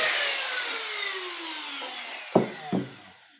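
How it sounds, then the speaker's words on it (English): A Dremel rotary tool winds down after cutting the tang of a deer antler knife, its whine falling steadily in pitch. Two short scraping knocks follow as the piece is handled. "The Dremel tools come in handy."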